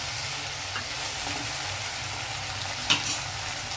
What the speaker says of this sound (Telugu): మొత్తం పచ్చిమిర్చి, కరివేపాకు, ఇదిగోండి టమాటా కూడా వేసేస్తున్నాను.